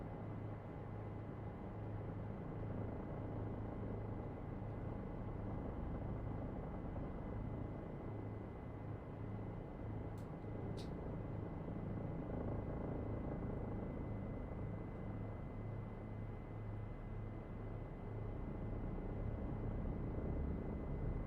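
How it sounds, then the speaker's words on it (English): A Bell 407 helicopter in the X-Plane 11 flight simulator hums steadily with a low engine and rotor drone, constant and even, with no talk over it. "I like the sounds, like you can hear as the helicopter's transitioning as you get into your kind of vertical profile"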